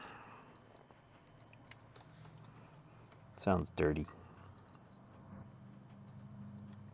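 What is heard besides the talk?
electronic beeping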